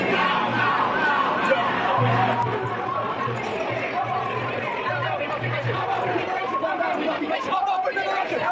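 Protesters chanting slogans in a large city square, a dense, steady crowd roar of voices and babble with flags and banners, continuous throughout.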